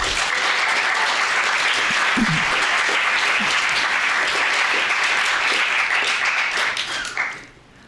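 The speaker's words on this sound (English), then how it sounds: "give this organization and this village a round of applause" An audience at a county Poetry Out Loud final gives a long, dense round of applause, loud and sustained, before it tapers off and fades near the end.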